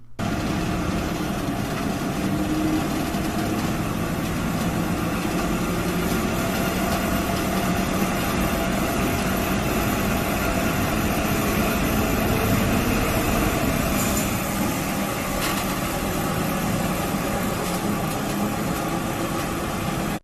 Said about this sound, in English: This is a giant dragline excavator built by the Soviet Union.